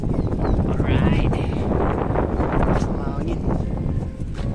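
Steady wind buffets the microphone during a bike ride at East Coast Park in a constant low roar throughout, with a voice speaking briefly over it.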